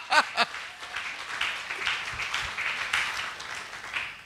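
A church congregation claps together, a few sharp strong claps at the start giving way to quieter, scattered, uneven clapping that carries on faintly for several seconds.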